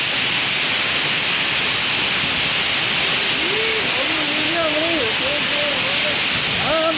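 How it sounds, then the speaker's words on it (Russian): Heavy rain storm with hail and strong wind on a summer evening in Kyzyl, a steady loud roar of downpour throughout, with voices talking faintly in the background during the second half. "29 июля вечером в Кызыле прошел сильный ветер, сопровождавшийся градом и дождем."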